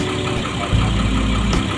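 A Jaya bus engine idles at a bus terminal, a loud, close, steady low rumble that thickens slightly midway before settling back.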